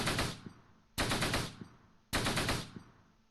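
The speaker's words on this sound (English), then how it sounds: "Volkov's laying down some machine gun fire" Three bursts of rapid machine gun fire in the World War II strategy game Close Combat, each a sharp, loud rattle followed by a decaying echo, with no voices.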